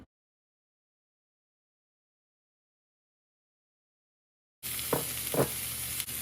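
Anchovy (dried nethili) sambal frying in a pan: after a long stretch of silence, a steady close sizzle starts, with two quick stirring scrapes through it near the end.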